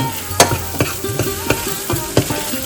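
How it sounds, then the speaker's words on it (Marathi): Masala fries in oil for Maharashtrian katachi aamti, a soft continuous sizzle under a regular series of spoon-against-pan stirring knocks. "चांगला फ्राय करायचा आहे मसाला"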